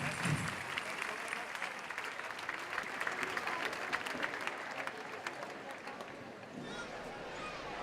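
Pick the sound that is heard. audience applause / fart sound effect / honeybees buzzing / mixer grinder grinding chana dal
audience applause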